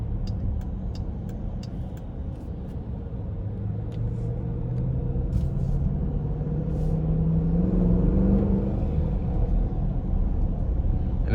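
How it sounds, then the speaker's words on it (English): Deep V8 exhaust rumble from a 2020 Dodge Durango R/T with the 5.7 liter HEMI in sport mode, climbing steadily in pitch and loudness as it accelerates on the road, a close continuous drone with no voices. "And I love that exhaust note."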